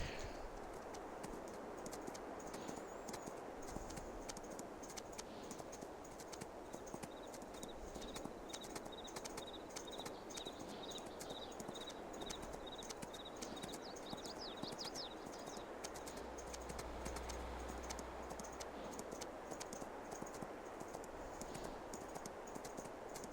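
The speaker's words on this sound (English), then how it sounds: "we got one more horse to ride and we'll be done with our horses" Horse hooves clip-clopping steadily while riding a horse named Applejack in Farming Simulator 22, a continuous even rhythm of close hoofbeats over a constant background wash, with no talking.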